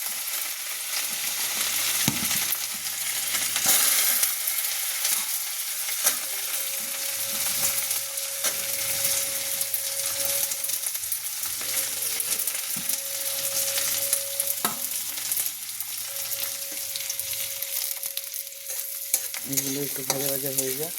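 Beans fry in a pan for chowmein, crackling steadily while a spatula stirs and scrapes repeatedly, with a few sharper knocks against the pan over the sizzle.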